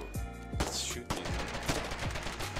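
Rapid bursts of gunfire from shooting enemies in a war video game, loud close shots repeating in quick succession for a few seconds with no talking.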